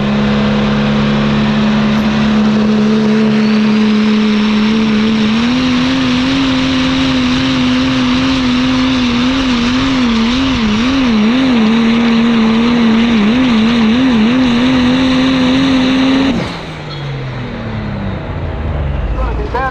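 A pro stock diesel truck on a truck pulling run, its engine roaring loud and sustained, pitch climbing and wavering under load before cutting off sharply, leaving quieter background noise; an announcer talks over it.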